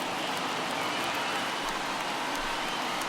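Steady wash of stadium crowd noise from a virtual ballpark crowd of about 35,000 standing during a Red Sox vs Blue Jays game in MLB The Show on PS5, continuous and moderately loud without distinct peaks.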